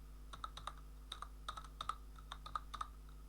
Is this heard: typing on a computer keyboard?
yes